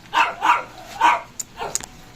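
A neighbour's dog barks close by in a residential setting, four sharp barks at uneven intervals, with a couple of quieter yips trailing after.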